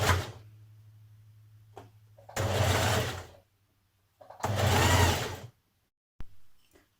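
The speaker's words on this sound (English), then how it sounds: "Now we're going to stitch these to our front and our back dress pieces." A sewing machine stitches a band onto the front and back pieces of a Burda 6060 dress, running in two long loud bursts with a low motor hum and quieter pauses between them, no talk.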